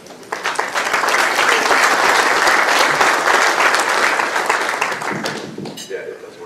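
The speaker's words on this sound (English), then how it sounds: "a big round of applause for John Mullen." Conference audience breaking into applause, a dense, loud burst of many hands clapping that swells quickly, holds steady, then fades out near the end as a voice begins to speak.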